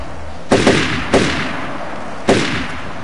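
Gunshots in a video game: three sharp, loud cracks, the first a quick double, then a single, then another after a pause, each with a short decaying tail.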